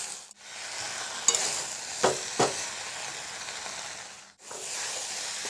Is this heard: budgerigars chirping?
no